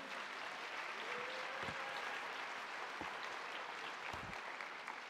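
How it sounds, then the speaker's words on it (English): Seniors at a high school senior awards ceremony applauding themselves, a steady wash of crowd clapping that fills the hall evenly, with faint voices and a few louder thumps underneath. "give yourselves a round of applause for all that good"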